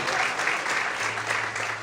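Congregation in a church clapping together in praise, a continuous, even patter of many hands throughout.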